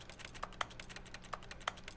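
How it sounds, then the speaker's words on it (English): Computer keyboard keys clack in a quick irregular run of light taps, close and clear, with no voices over them, as in-game typing in The Stanley Parable. "I make ticky-tacky typing on keyboard noises."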